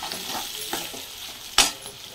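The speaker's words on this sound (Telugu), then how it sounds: "ఇక ఇవన్నీ మంచిగా కలిసేటట్టు అయితే కలిపేసుకుందాం." Paneer pieces are stirred into a curry in a pan over a soft, steady sizzle, with a few scraping strokes and one sharper clink of the utensil against the pan near the end.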